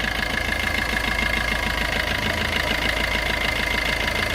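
A 2019 Maruti S-Cross diesel idles close by with a steady, even diesel clatter and low hum running throughout, no voices present.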